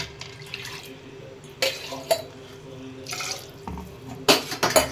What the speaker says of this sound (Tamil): நான் 1 டம்ளர் தண்ணி மட்டும் ஊற்றுறேன்.